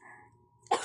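A single sharp cough bursts out near the end of a quiet moment, close to the microphone, following faint background murmur.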